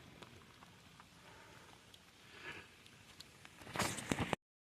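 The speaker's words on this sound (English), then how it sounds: "It's just draining too slowly for it actively raining." Rain falling steadily during gutter cleaning in cold weather, a faint continuous patter with scattered drips, ending in a louder burst of splashing and clatter before cutting off; no speech.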